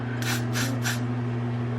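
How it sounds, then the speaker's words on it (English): Three quick bursts of Got2b hairspray onto a brush, evenly spaced and close, over a steady low electrical hum. "I'll spray a little bit on the brush part"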